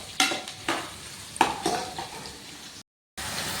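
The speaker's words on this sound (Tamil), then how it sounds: "இப்போது வெங்காயம், பச்சை மிளகா, பட்டை வகைகள்லாம் போட்டு நல்லா முருகலாக" Onions, green chilies and whole spices for chicken biryani sautéing in a pan, with a constant close sizzle broken by several sharp spatula stirs and scrapes, then a brief dropout before the frying resumes.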